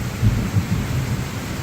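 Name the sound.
thunder and rain during a garden thunderstorm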